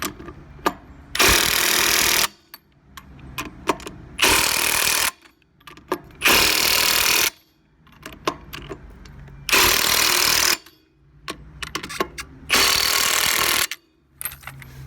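A power impact tool torques wheel lug nuts on a set of custom rims and tires, firing in five loud, close bursts of about one to two seconds each, separated by quieter gaps with light clanks of handling between them.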